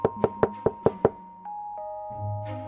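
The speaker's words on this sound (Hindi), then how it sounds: "एक साधु आया और ढोलू के घर का दरवाजा खटखटाया" Six evenly spaced, sharp knocks on a door ring out close and clear, followed by sustained musical tones.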